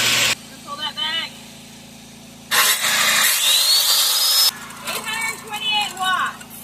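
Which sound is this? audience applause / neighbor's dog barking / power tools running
power tools running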